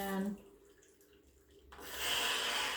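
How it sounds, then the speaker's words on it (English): Hot water pours from a kettle over a tea bag in a cup, a splashing, hissing stream that stops briefly and then resumes louder and steady, close up. "We're going to add the hot water right away."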